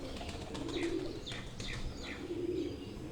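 Breeder pigeons in a loft cooing, two low throaty coos spaced apart with faint chirps and rustling around them at a moderate distance.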